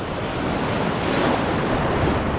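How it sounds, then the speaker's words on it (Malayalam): Sea waves wash and draw back along the shore in a continuous broad rushing surf, with some wind buffeting the microphone and no talk. "ഇവിടെ നല്ല രീതിക്ക് വെള്ളം പുറകോട്ട് വലിക്കുന്നുണ്ട്."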